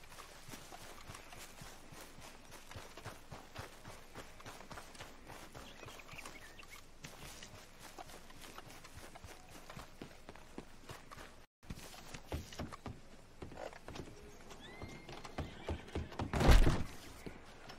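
Hooves clop in a steady walking rhythm throughout from a horse in Red Dead Redemption 2, with a few thuds and a brief loud burst near the end, no voices.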